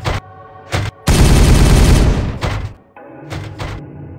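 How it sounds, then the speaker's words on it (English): Heavy gunfire in a Warhammer 40K video game battle, short loud bursts then a long sustained roar of rapid shots, close and dense, followed by a few more brief bursts. "Open fire!"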